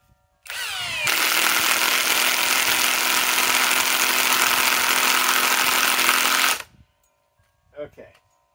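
Harbor Freight Hercules impact driver sinking a 3-inch lag screw into fresh wood, a loud sustained whirring hammer for about six seconds that stops abruptly, followed by a brief voice.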